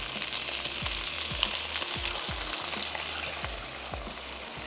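Chicken stock poured into a sizzling mushroom gravy pan, a constant bright frying hiss with a series of low knocks and scrapes recurring about every half second, moderately close, no voices.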